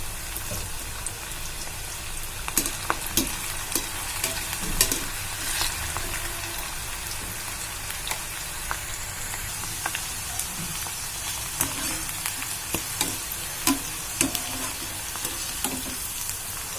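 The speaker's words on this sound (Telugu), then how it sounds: "ఆయిల్ పెట్టుకొని ఆయిల్ వేడైందండి కొద్ది కొద్దిగా వేసి వేయించుకున్నాను" Small-cut okra pieces fry in hot oil, added a little at a time, with a steady close sizzle and scattered clinks and scrapes of stirring throughout, no voices.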